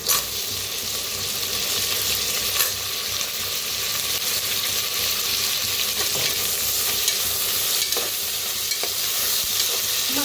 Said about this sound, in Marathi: कांदा हलकासा भाजत आलेला आहे,